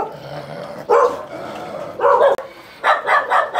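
Several dogs bark in short, loud bursts at close range in a home, with yips and low growls between, the barks clustering in three separate volleys.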